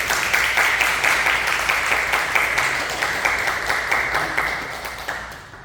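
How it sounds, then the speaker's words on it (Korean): A church congregation gives warm, steady applause during a Sunday worship service to welcome new members. The clapping is dense and continuous, then fades out toward the end. "따뜻하게 박수로 환영해 주십니다"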